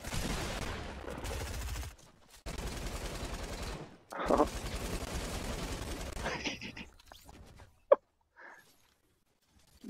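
Light machine gun fire in Fortnite, bursts of rapid automatic shots in the opening seconds and again around the middle, mixed with game sounds, a sharp single crack near the end, and talk in between.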